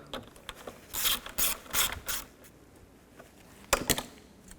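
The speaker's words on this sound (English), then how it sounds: "get the bolts started, and tighten these down" A ratchet tightens the mounting bolts on a 2009–2017 Chevy Traverse third brake light, giving several short bursts of close, dry clicking separated by pauses, with a final quick flurry near the end.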